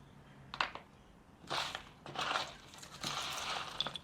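Dry pastels drag and scrape across paper in several short strokes and longer bursts, a close, soft scratchy rasp with quiet pauses between.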